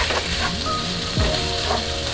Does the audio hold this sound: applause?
no